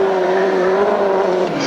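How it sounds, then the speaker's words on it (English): A grasstrack sidecar racing outfit at a 1995 meeting holds its engine at high revs, a loud, steady, buzzing drone that dips slightly toward the end. "Still does sound as if he's revving still a bit too high"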